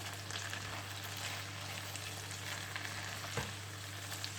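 Okra frying on high heat in a pan for a bhindi masala: a steady, close hiss and sizzle of oil, with one small stirring knock, under a constant low hum and without speech.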